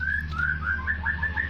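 A wild white-rumped shama (murai batu hutan) kept about eight months in captivity calls in a steady series of clear whistled notes, close and fairly loud over a low background hum.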